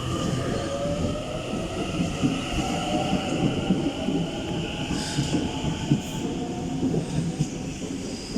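A Sydney train departs a station on the Bankstown line with a steady, loud rumble of wheels and motors. Faint squeals and rail clicks rise over the drone, with no talk.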